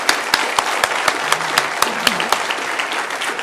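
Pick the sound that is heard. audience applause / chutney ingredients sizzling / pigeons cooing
audience applause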